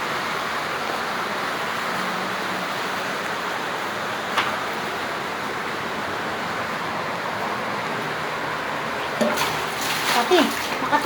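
Heavy rain pouring down outdoors during a storm, a steady dense hiss that fills the whole stretch, with a few brief splashes and knocks near the end and a voice talking over it.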